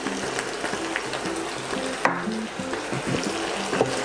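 Vegetables half-cooking in a hot pan with pepper and fish sauce, for fish kare-kare, a continuous close sizzle with faint scraping of stirring and a small clink partway through, no talking.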